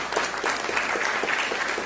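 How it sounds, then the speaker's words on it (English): Audience at an officials' announcement event clapping, a steady even patter of applause from a modest crowd throughout. "give him a round of applause, for heaven's sakes"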